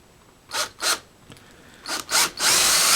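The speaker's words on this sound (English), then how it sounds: "you're going to use a 1/8 drill bit as a pilot bit" Drill with a 1/8 bit boring pilot holes into a splitboard, short bursts of whirring in quick pairs, close, ending in a longer continuous buzz, no talking.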